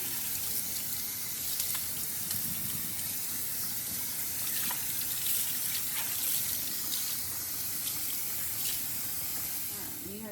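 Tap water running steadily while conditioner is rinsed out of permed hair at home, a soft continuous splashing hiss close by that fades slightly at the end.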